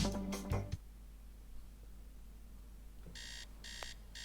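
An alarm clock rings in the video game Teardown, three short bursts of a bright electronic ring after a few seconds of quiet background hum, with a brief thud and rumble near the start.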